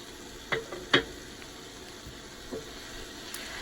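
Onions and green chillies frying in a pan while being stirred for a prawn and long bean bhuna: a soft, low sizzle with a couple of distinct spatula clinks and scrapes near the start and a faint one later.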